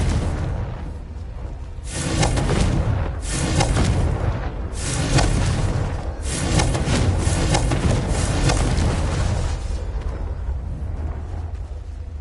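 Repeated blasting-spell explosions from Hogwarts Legacy, a string of loud booming bursts with whooshing tails arriving in several waves over a constant rumbling game backdrop.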